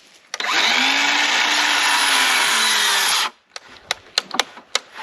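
A cordless DeWalt power saw cuts wooden trim in a tiny off-grid house, with one loud, steady burst of about three seconds close by, then a few sharp knocks and clicks afterward.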